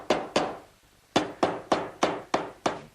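Sharp hammer blows drive a wooden piece down into a medicine cabinet standing upright in a woodworking shop: two quick strikes, a short pause, then six evenly spaced, close, ringing knocks.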